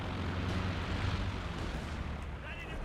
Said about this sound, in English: Stuka bomb, it was dropped. I'm not sure where, but it was dropped somewhere. I'm assuming here based on the explosion.